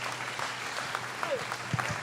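A church conference congregation applauds in praise, a moderate, continuous patter of many hands with a few scattered voices and shouts rising briefly above the clapping.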